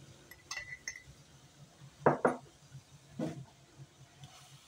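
Metal spoon clinks against the side of a pot of warm milk with added powdered milk, a few light scattered taps over a faint steady hiss.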